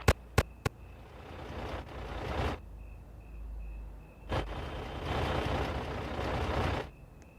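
A bus in the horror video game Scary Store pulls up with a low engine rumble and loud bursts of air-brake hiss, rising and falling, after a few sharp clicks at the start.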